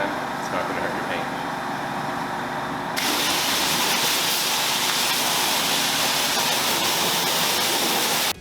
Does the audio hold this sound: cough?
no